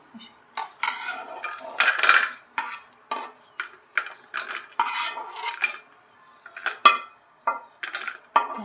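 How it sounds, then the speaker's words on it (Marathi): A metal spoon scrapes and clinks against a pan and plate as cooked mixed vegetables are served out, irregular close knocks and scrapes with quiet gaps between, no speech. "ते आता आपण एका प्लेटमध्ये काढून घेऊया"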